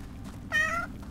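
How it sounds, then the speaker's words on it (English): A pet cat lets out a single short meow, close and fairly clear over a low background hum. "my cat's making noises and driving me insane"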